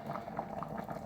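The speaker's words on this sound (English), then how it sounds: "So, there it is, just boiling away" Carrot stew boils in a pot with a constant close bubbling and popping, a busy liquid churn heard alone.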